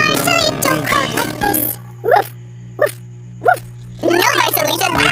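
Three short barks ring out at spaced intervals over a low steady hum, with people talking before and after.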